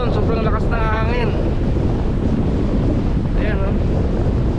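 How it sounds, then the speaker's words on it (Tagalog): Strong wind buffets the microphone on Boracay beach in rough, wavy amihan-season conditions, a loud constant roar with surf beneath it, and a voice speaking briefly over the gusts. "Sobrang maalon, sobrang lakas ng hangin."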